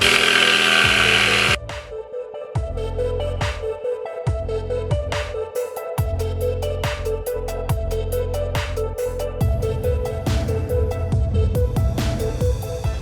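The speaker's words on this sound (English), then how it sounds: "now I just hit these lines with a jigsaw" A jigsaw cuts a wooden board for a round shield, its loud rapid buzzing broken by short pauses and restarts along the cut lines, with a rattling blade and shifting pitch as the load changes.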